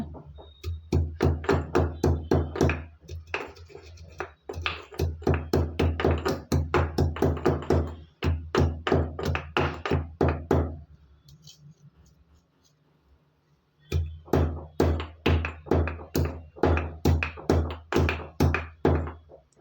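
Black pepper and cumin are pounded coarsely in a rapid, steady run of loud, close thuds, with a pause of about three seconds near the middle before the pounding resumes.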